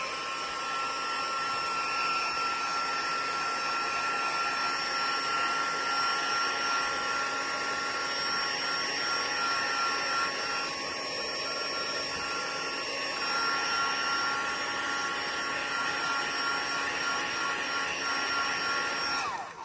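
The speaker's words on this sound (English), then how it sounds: "heat tool just to dry this a little bit." Steady, continuous whir of a heat tool blowing hot air to dry a watercolour paper craft, running loud and unbroken at close range without any talk.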